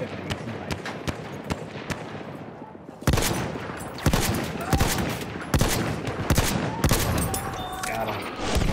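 Rapid rifle gunfire in the Battlefield 1 video game, a steady run of sharp, loud shots at close range with brief pauses and some distant background shots.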